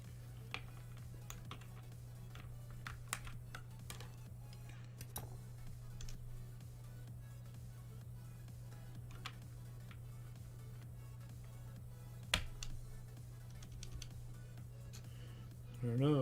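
Scattered keyboard clicks and taps at an uneven pace over a steady low hum, with a brief louder clack near the end.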